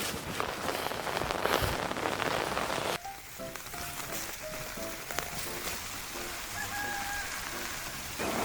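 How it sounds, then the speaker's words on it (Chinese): Heavy rain pouring down on a tea field, a dense, steady hiss that eases slightly midway, with chickens clucking and a rooster crowing nearby. "现在下雨"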